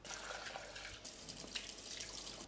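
Tap water runs over cut potatoes in a kitchen sink as they are rinsed and covered for boiling, a soft steady splashing stream with small drips and clinks, quiet and close, no talking.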